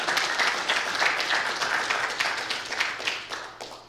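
Men in a church congregation clap together in steady, dense applause, moderately loud and sustained throughout, with no talking over it.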